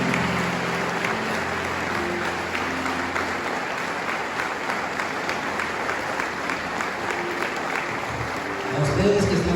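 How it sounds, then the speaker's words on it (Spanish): A church congregation at a Spanish-language sermon breaks into loud, sustained applause, a dense steady wash of clapping filling the room from start to finish, with faint voices mixed beneath. "Dale un fuerte aplauso al Señor"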